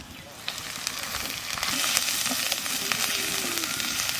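Onion and garlic paste frying in oil in a pan for a crab curry, a steady close sizzle with occasional crackles and stirring scrapes, continuous throughout.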